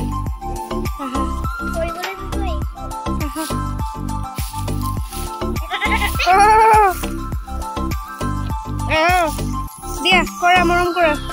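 A goat in an open field bleats in several loud, wavering calls, close by, amid rhythmic rattling and people talking.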